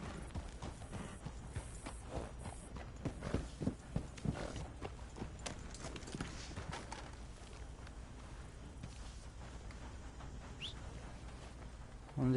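Horse hooves clip-clop in a loose, uneven rhythm in Red Dead Redemption 2 at night, fairly faint over a soft ambient background with occasional birdlike calls.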